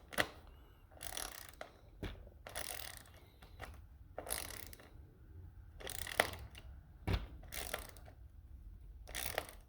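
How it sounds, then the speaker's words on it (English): A ratchet tightens a nut on the axle of a Traxxas Stampede Bigfoot RC truck, producing short scattered bursts of faint, close clicking with quiet pauses between them and no voices. "Ratchet time."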